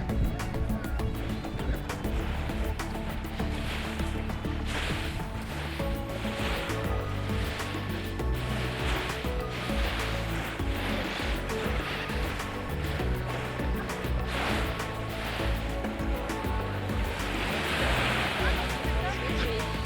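Surf rolls in steadily at a busy Key West beach, a constant broad wash of breaking waves heard close and loud throughout, with no clear gaps between sets.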